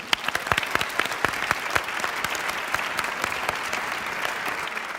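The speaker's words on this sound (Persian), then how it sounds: "ماشاءالله، تشویقش کنیم." An audience applauds a five-year-old girl after her recitation, with crisp individual hand claps standing out at first before settling into a steady, moderately loud wash of clapping.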